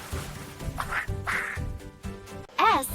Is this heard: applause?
no